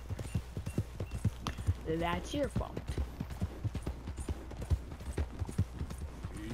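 Horse hooves clip-clop at a quick rhythmic pace in the Western game Red Dead Redemption 2, a steady run of hoofbeats under a voice talking.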